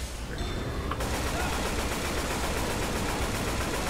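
Dense, continuous automatic gunfire from the zombie shooter game Left 4 Dead rattles loudly and rapidly throughout, with overlapping bursts and no pauses.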